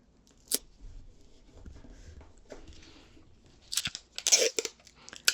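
Ordinary sticky tape is pulled from the roll and torn off for a handmade Easter pop-out card: a quick rasp early on, then a close cluster of short ripping and crackling bursts near the end, quiet and with no talk.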